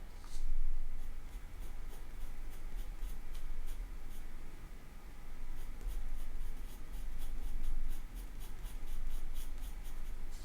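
Graphite from a soft 2B pencil scratching and shading across drawing paper in close, quiet strokes, with steady rhythmic scraping bursts continuing throughout.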